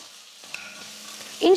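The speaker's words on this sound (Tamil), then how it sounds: "இஞ்சி பூண்டு விழுது சேர்த்து 1 நிமிஷம் நல்லா வதக்கி கொடுத்ததுக்கு அப்புறமா" Ginger-garlic paste and onions sizzling in a pan, a soft steady fry with a spoon scraping and stirring, ending in a louder burst of sizzle.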